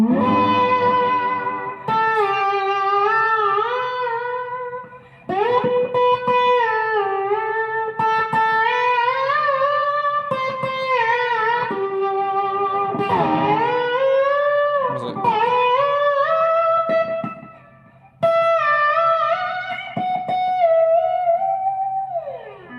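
An overdriven electric guitar played with a slide gives sustained, sliding notes washed in delay and reverb, with tails ringing between phrases and brief pauses.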